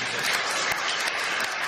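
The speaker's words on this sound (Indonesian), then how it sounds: "Tepuk tangan dulu Pak Gembala." A church congregation applauding the pastor, a continuous broad wash of many hands clapping together, fairly loud and steady from start to finish with no voices over it.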